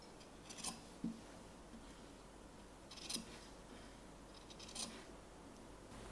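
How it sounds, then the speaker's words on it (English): Scissors snip through the corners of a sewn fabric tote bag pocket, three quiet separate cuts spaced a couple of seconds apart against a soft room hush. "Trim the corners to reduce bulk."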